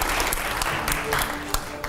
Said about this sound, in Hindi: जोरदार तालियां हो यहां पर।